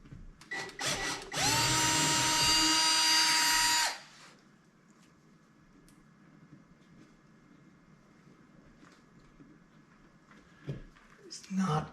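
Power drill reaming out a hole in drywall for a wall anchor, a loud close whine lasting about two seconds, then quieter handling noises and faint background hum.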